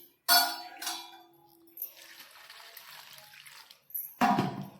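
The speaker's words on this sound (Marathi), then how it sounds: "पाणी ओतून निजत ठेव होईल" Water is poured over a ground mix of onion, coconut, garlic, turmeric, coriander and tirphal to soak it for a fish curry, giving a soft splashing pour between sharp clinks of a vessel at the start and end.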